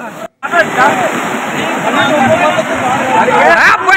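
Loud, continuous roar of floodwater rushing over a bridge in Yavatmal, India, with a crowd of voices talking and shouting over it.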